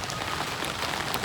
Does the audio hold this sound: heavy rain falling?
yes